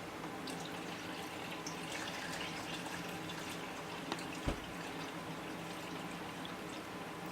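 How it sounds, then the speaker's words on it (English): Strained cayenne-infused vodka tincture is poured from one container into another, making a steady, quiet liquid trickle with a small splash near the middle. "So it's in here, and I'll pour it one more time into another one."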